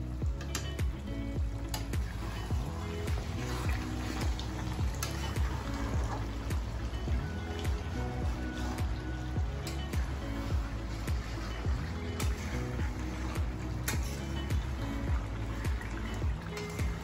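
Water poured into a pot while cooking dahi chicken, a steady trickling and sizzling liquid sound that continues throughout at moderate level.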